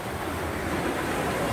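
Caribbean Sea waves washing onto a beach at Isla Saona in the Dominican Republic, a steady broadband surf wash with wind noise, continuous and close.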